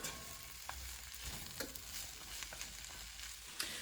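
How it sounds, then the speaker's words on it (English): Diced peppers and beefless meat sizzle in a hot pan, a soft, steady frying hiss with occasional light stirring scrapes and clicks, fairly faint and with no talking. "let's add our diced peppers and our beefless meat to it and cook it for about 3 minutes"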